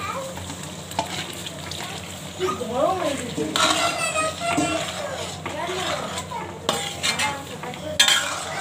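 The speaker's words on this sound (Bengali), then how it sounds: "পনিরটা দিয়ে দিচ্ছি, দেখুন।" Paneer is stirred in a hot frying pan, giving a steady sizzle with scraping and clinking of a utensil against the pan while someone talks over the cooking.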